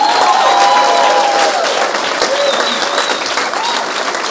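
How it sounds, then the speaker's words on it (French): A church congregation applauds and cheers, with loud sustained clapping from a crowd, bright tonal cheering and musical tones weaving above it, and the applause easing slightly toward the end. "Est-ce que tu peux acclamer le Seigneur?"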